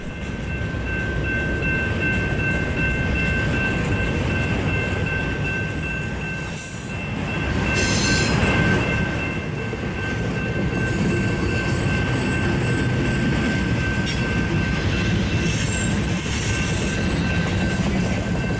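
A heavy BNSF freight train on the Cajon Subdivision rumbles past nearby for a long stretch, a constant roar of wheels with a thin, steady metallic squeal riding over it, no voices.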